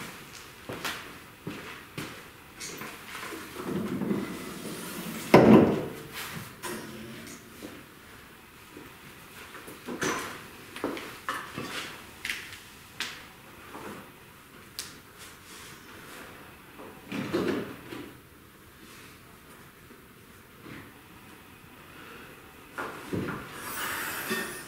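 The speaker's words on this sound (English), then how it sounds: "we gotta see if the hood shuts" The hood of a V8-swapped Chrysler Crossfire in a driveway, with an oil cooler newly fitted, shuts in one solid nearby thud, surrounded by quiet handling rustles and scrapes.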